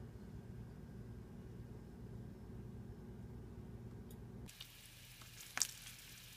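Steady, soft sizzling of sausages frying in olive oil over medium heat, continuous and close, followed by a brief clatter near the end.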